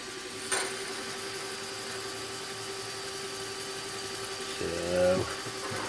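A 3.5mm drill bit turning at 700 rpm bores into A2 tool steel, giving a steady, close mechanical hum throughout, with a short sharp tick early on and a brief rising squeal near the end.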